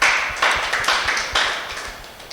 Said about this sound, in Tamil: கை தட்டுங்க எல்லாரும்.